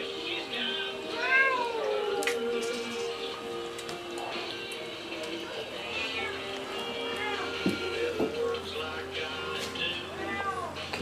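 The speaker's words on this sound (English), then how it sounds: "There's kittens all over this room." Several kittens mewing repeatedly in high, thin cries, some overlapping, against a soft room hum with faint background noise.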